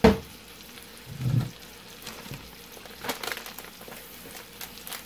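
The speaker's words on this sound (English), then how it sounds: "the burgers are sizzling away" Low, steady sizzling of homemade burgers frying in a pan, with a couple of soft clunks of utensils and no talking.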